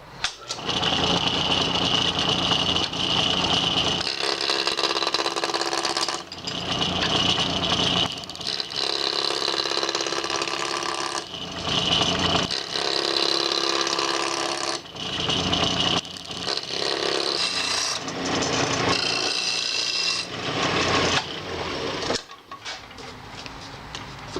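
A wood lathe spins a box blank while a 5/8 inch bowl gouge roughs it down to a cylinder, giving a loud, continuous whirring cut that surges and drops in bursts as the tool engages and lifts away.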